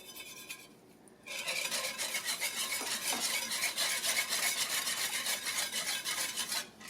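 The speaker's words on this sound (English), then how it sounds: "So now that you have whisked everything until it is well combined and blended" Milk, pepper and salt are whisked together for macaroni and cheese, a fast, even scraping whir against the bowl that starts after a brief quiet moment and runs steadily, fairly soft, before stopping at the end.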